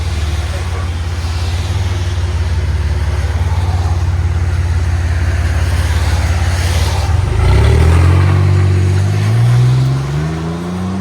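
A 1992 Chevy S10 with a 4.3L V6 and Flowmaster Super 10 exhaust burbles loudly at a deep idle, then blips up into a brief rising rev before settling back down, close by.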